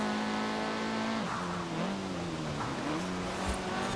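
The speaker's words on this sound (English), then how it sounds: "starting off in 4th place with the terrible launch of these front wheel drive cars" Front-wheel-drive race cars launching from the start on a rainy track in Forza Horizon 4, engines droning loudly and steadily, pitch dipping and climbing with gear changes, no talk.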